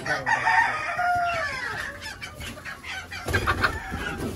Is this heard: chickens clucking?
yes